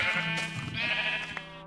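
Several sheep in Minecraft bleat one after another, a short run of nasal bleats that sound close and carry on without pause and with no talk over them.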